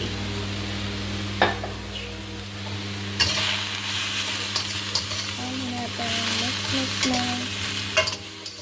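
Salmon stir-fried with oyster sauce in a pan, a steady sizzle with repeated scraping and tapping of a utensil against the pan, close and fairly loud.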